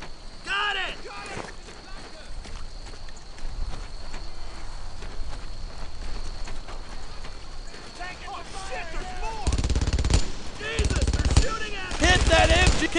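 Automatic weapon fire rattles through a World War II squad battle in Brothers in Arms: Earned in Blood at Château Colombières, with sporadic shots early, then loud, dense bursts near the end, under soldiers shouting orders.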